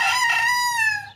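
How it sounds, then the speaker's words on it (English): A rooster crowing at a bird garden in Jordan, one long drawn-out call close by and fairly loud, with a soft low murmur underneath. "May chicken pala dito sa Jordan."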